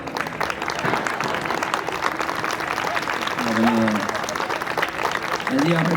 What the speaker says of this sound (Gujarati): બે ચાર તાળી બદલ આભાર